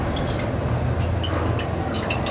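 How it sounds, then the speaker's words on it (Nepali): Water pours steadily into a pan set on the stove to heat for cooking greens, a continuous close splashing rush that runs the whole time with no voices. "म यसमा चाहिँ सागको लागि पानी तताउन दिन्छु"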